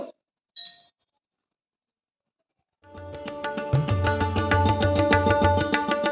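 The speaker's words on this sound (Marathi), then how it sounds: "आता मी दुसरा नाणं पाण्यात टाकतो" A couple of faint clicks, a pause of silence, then a coin drops into a glass of water, clinking against the glass in quick bright taps and a resonant shimmer.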